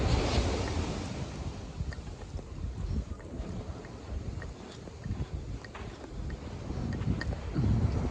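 Ocean waves break and wash on a rocky beach at Garrapata State Park in California, a continuous surging roar with wind buffeting the microphone, swelling louder near the end.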